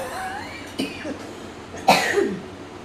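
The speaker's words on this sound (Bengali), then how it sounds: "তো আমার কাশি হয়েছে না খুব" A woman coughs a couple of times, two short bursts about a second apart, close and moderately loud in a quiet indoor room.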